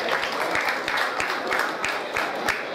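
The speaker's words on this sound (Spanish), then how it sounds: "Recibámosle con fuertes aplausos." A festival crowd gives a steady round of applause welcoming the mayor at an evening town fiesta, dense clapping sustained throughout at moderate volume with a few louder claps standing out.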